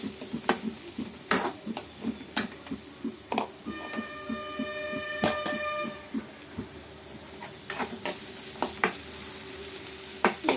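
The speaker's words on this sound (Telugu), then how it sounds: "ఇవైతే ఇలాగా గోల్డెన్ బ్రౌన్ వచ్చే వరకు వేపుకున్నాం" Food frying in a pan until golden brown, with continuous soft sizzling broken by sharp scraping stir strokes and a brief ringing tone partway through, close and fairly quiet.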